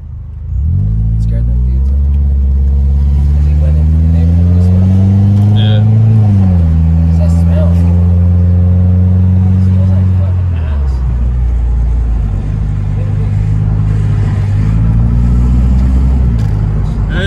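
A 1999 Mercedes C230 car accelerating hard, its engine drone climbing steadily in pitch, dropping at a gear change, then pulling upward again in a long, loud, continuous run from inside the cabin.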